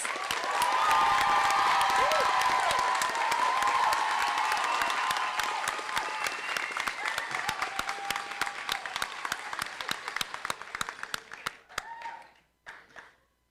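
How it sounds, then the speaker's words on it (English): A crowd at a nursing pinning ceremony applauds with dense, sustained clapping that gradually thins out into scattered claps before fading to silence. "could we please have a round of applause for the North Campus?"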